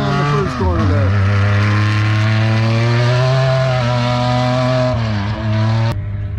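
Off-road desert race cars revving hard at a VORRA desert race start line, loud droning engine tones rising and sliding in pitch as they accelerate away, cutting off abruptly near the end.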